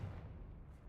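A Confringo blasting spell in Hogwarts Legacy sets off a heavy, rumbling explosive burst, a deep booming roar that stays dense and loud for just under a second with no voices over it.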